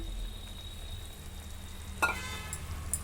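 A ground paste of sesame, peanuts, coconut, garam masala and ginger-garlic goes into a pan of frying potato kurma, with a soft steady sizzle and then a sudden louder burst of spitting as it lands, with quiet crackles after.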